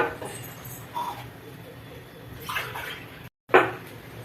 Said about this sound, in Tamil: அடுத்து தண்ணி 2 டம்ளர் ஊற்றிடலாம்.